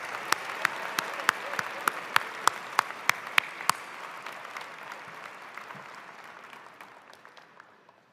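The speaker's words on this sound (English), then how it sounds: "let's give her a rousing round of applause" Applause for a graduate honored in absentia at a campus graduation ceremony, a fairly distant hall-wide round of clapping with sharp claps up front that slowly thins and fades over about eight seconds.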